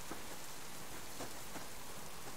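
Steady rain falls in the survival video game Subsistence, a dense continuous hiss of drops on surfaces with faint patters, filling the scene without any talk.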